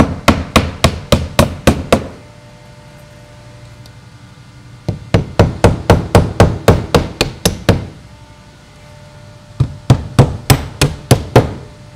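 Hammer blows fastening a siding starter strip to a wall, loud close strikes in three quick bursts of about seven to ten hits each, separated by short quiet pauses.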